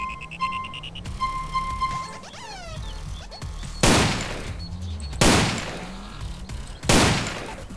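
Gunfire from a red and black weapon pack in GTA San Andreas multiplayer, three loud separate shots spaced about a second and a half apart, each ringing out after earlier menu tones and chirps.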